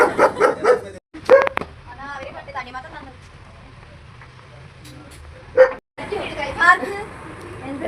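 A house dog barks and yips in quick bursts near the microphone while people chat loudly around it, with a couple of brief dropouts.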